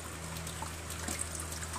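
Tap water runs steadily into a sink while hands are rinsed under it, a soft continuous trickle with faint splashes, heard alone and fairly quiet.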